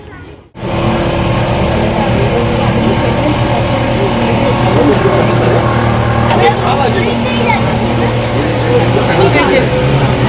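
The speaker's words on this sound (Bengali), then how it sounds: "আমরা বোটে উঠে গেছি বোটটা এবার যাচ্ছে দেখো ভালোই লাগে বোট রাইড" A passenger boat on a ride during a Rishikesh trip starts up into a loud, steady engine drone with water and wind noise that holds for the whole stretch.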